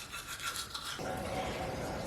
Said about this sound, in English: It's a longer toothbrush.